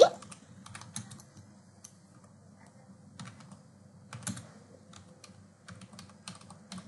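Light typing on a computer keyboard while composing in Gmail: scattered soft key clicks in short bursts, faint and close, with quiet background hiss and no clear voice.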